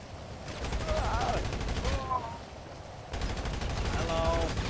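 Rapid bursts of gunfire in a GTA RP hurricane scenario, loud and close, with voices talking and shouting over the shots.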